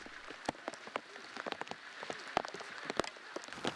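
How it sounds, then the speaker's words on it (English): Heavy rain in Patagonia, Argentina, pattering steadily on a surface, with scattered sharper drops and splashes standing out over a constant wash. "Finally, it starts pouring rain."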